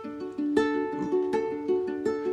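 Ukulele finger-picking the chorus, a simple plucked pattern of clear, bright single notes and small chords ringing in a steady rhythm, close and alone with no voices.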